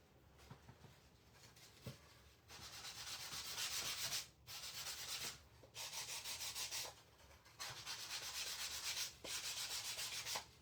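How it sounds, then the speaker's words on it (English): Edges of a handmade wooden sign are sanded back by hand in long rubbing strokes, a loud raspy scrubbing that comes in several bursts with short pauses between them. "But I am gonna sand this back."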